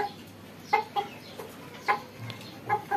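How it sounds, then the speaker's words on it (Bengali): Two hens on a rural farm fight and cluck in short, sharp bursts that come every second or so, near and fairly clear over a quiet background. "এই যে এই দুই মুরগি মারামারি করে কিছুক্ষণ পর পর"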